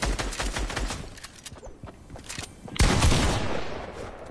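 Video game gunfire aimed at an enemy player: dense bursts of rapid shots through the first second and a half, then a sharp loud blast near the three-second mark followed by more shooting.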